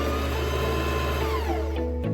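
Sewing machine bobbin winder spinning at a steady high whir with a constant motor hum, close and loud, the pitch sliding and stopping abruptly near the end.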